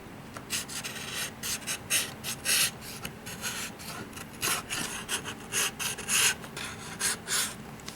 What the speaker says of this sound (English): Let's do a push cut. See if I can feather the cardboard.